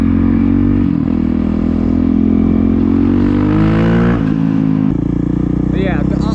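Honda CRF450L motorcycle engine running with a newly installed tuner, a loud, close, steady exhaust rumble with shifting revs, while a rider talks over it throughout.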